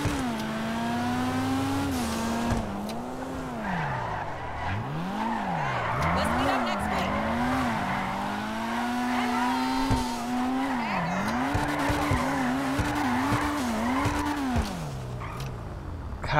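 A Karin RT3000 in the GTA V video game drifts and slides, its tires squealing in long wavering sweeps over a steady revving engine for over fifteen seconds.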